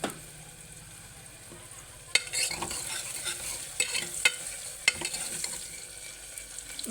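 Telangana-style mutton curry being stirred and fried in a pan, with a steady close sizzle and sharp scraping stirring strokes that start after about two seconds; no one speaks.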